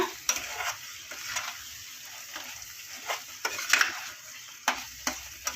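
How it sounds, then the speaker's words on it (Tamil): Raw mango pachadi being stirred in a pan, with soft scraping strokes and a gentle sizzle, plus a few sharper utensil clicks against the pan; no voices. "நல்லா போட்டு கிளறி விட்டுறலாம்."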